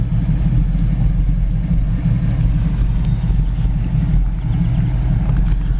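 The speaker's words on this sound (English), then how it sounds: "Dual exhaust sounds great." A 1967 Pontiac Firebird convertible idles through its dual exhaust, a steady deep low rumble that holds evenly and close by, with no talking.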